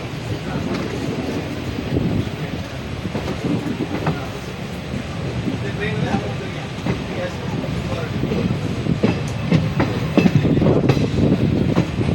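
A passenger train on the Trichy–Karaikkudi line rolls steadily along the rails with a continuous rumbling roar, faint rhythmic clatter and some wind buffeting throughout.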